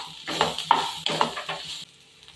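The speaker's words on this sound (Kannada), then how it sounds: "ಟೊಮ್ಯಾಟೊ ಸಾಸ್ ಹಾಕ್ತಾ ಇದ್ದೀವಿ. ಹಾಗೆ ಹಾಕಿ ಚೆನ್ನಾಗಿ ಮಿಕ್ಸ್." Tomato sauce is stirred into baby soya manchurian frying in a pan, giving a few close scraping stirs over a soft sizzle before things quiet down near the end, with no talking.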